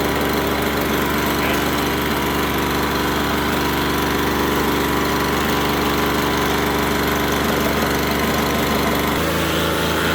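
A small 2-cycle string trimmer engine runs steadily at half choke with a loud, buzzing drone. It holds nearly constant throughout and drops slightly in pitch near the end, with no talk.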